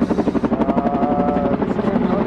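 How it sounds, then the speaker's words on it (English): A helicopter hovers roughly 100 feet overhead above a neighboring house, its steady, pulsing rotor chop loud and continuous throughout with no talking. "a helicopter hovers about 100 feet above the neighbor's house"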